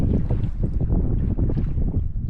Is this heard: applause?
no